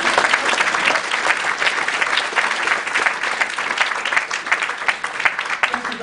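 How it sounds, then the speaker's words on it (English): A live audience at a magic show breaks into steady, dense applause for a volunteer assistant named Anita, loud and continuous throughout with a crowd-filled wash of clapping. "Let's give her a big round of applause"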